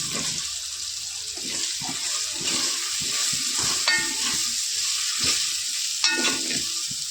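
Boiled toor beans being stirred into masala with red chilli powder frying in a pan: a steady, close sizzle with repeated scraping and stirring strokes and a couple of light metallic clinks, no voice over it.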